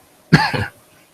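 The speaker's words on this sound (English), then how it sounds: "most people cough like this" A single short, sharp cough, close and loud, followed by quiet.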